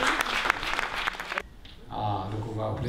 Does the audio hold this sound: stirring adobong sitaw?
no